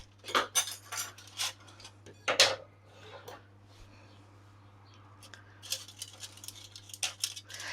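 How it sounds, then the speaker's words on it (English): Kitchen scissors snip the beards off fresh mussels: a series of sharp, close metallic snips in irregular clusters, separated by quiet pauses over a faint steady hum. "I will have the scissors to get rid of that."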